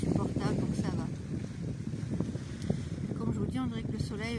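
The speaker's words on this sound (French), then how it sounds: "Là le vent il est supportable donc ça va." Wind gusting outdoors on a November morning, steady low buffeting rumble against the microphone that runs throughout while someone talks over it.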